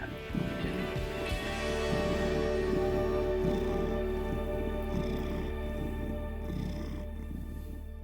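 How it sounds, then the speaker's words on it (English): A steady, close purr rumbling continuously, with faint background noise and no voices. "That's some serious purring."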